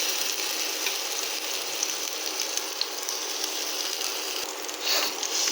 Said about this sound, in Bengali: মশলা ভালোভাবে আস্তে আস্তে নেড়ে ছেড়ে দিতে হবে।